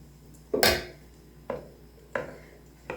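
Four separate wet, squelchy thumps in a pot, the first loudest and the rest evenly spaced, each one a short mash of soft raspberries with a masher.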